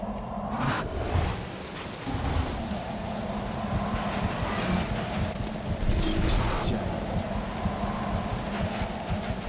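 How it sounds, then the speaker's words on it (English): Steady rain falls in the video game Clive Barker's Undying, a constant broadband hiss that carries on unbroken under the game's low ambient hum. "The rain is just ridiculous."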